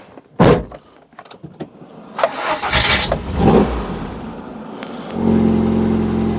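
An old vehicle's engine is cranked with a few bursts of starter whine and sputter, then catches and settles into a rough, uneven idle, heard close and loud.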